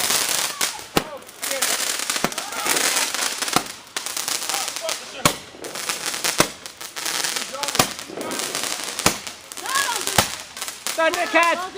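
Fireworks and firecrackers bang repeatedly in sharp, loud cracks spaced every second or so, with crackling and whistling bursts between them, while people shout and talk nearby.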